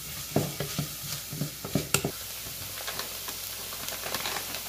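Chopped onions cook in a pan for a four-cheese rice dish. A few stirring clicks and scrapes come first, then a steady, soft sizzle and hiss continue alone.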